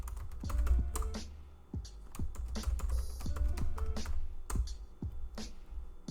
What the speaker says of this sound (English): So if we type lv display,